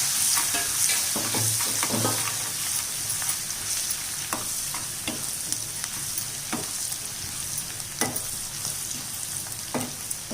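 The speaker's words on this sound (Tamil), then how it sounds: "இப்போ பூண்டு லைட்டாக வதங்கட்டும்." Pounded garlic fries in oil for onion thokku, giving a steady soft sizzle under repeated scraping strokes of a spoon stirring the pan, with no talking.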